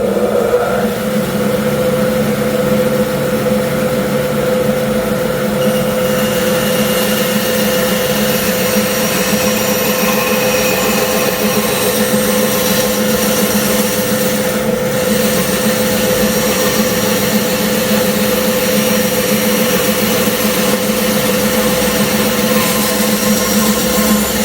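A bandsaw with a large blade runs steadily while a test piece is fed through, a constant loud motor hum and whirring drone with little change from start to finish.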